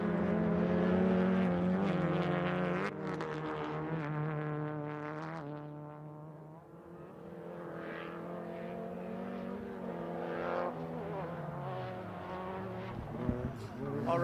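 A Toyota Vitz rally car pushes hard toward a chicane at a rallycross event, its engine holding a loud, continuous drone whose pitch sweeps up and down as it revs and shifts.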